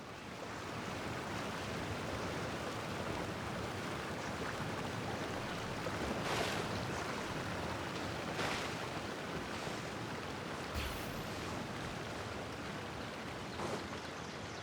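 A waterfall in Genshin Impact rushes in an unbroken, even wash of broadband noise that stays at a steady level throughout, with no voices.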